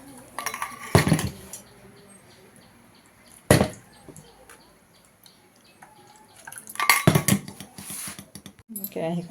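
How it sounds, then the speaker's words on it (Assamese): A wok being set on a stove in a home kitchen, with a few sharp metal clinks and clatters spaced apart over quiet background hum, the loudest burst near the end. "কেৰাহীখন পাতি লৈছোঁ"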